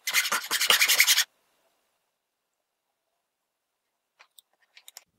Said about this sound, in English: The filing actually took about 15 minutes,